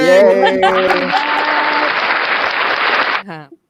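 A loud, dense canned applause track with cheering swells up after a brief burst of voices, holds steady for a few seconds, then cuts off abruptly into a short voice.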